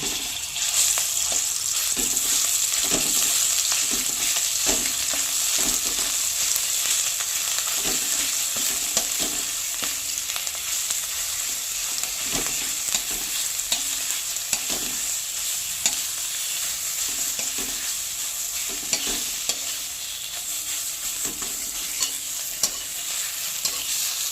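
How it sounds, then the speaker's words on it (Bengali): Dried shrimp mash stir-fried in hot oil in a wok, a constant loud sizzle with rhythmic scraping strokes of a spatula repeating every second or so, no voices. "তেলটা গরম হয়ে গেছে, এবার একটু নাড়াচাড়া করে নেব"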